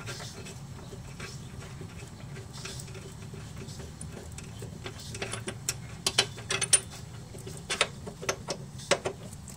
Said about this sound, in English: So the screw should come out relatively easy with a breaker bar.